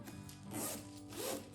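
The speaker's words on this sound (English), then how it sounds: "Let's try out the zipper." A zipper on a large suede leather shoulder bag is drawn in two soft, close rasping strokes, faint and alone.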